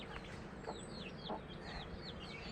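A pet chicken clucks softly with a series of short, high peeping calls repeating through the clip, all over a steady, noisy background.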